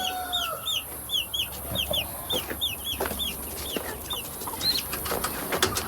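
Chickens and young chicks in a coop. High, rising peeps repeat rapidly over soft clucking, with occasional wing flutters and a low background hum.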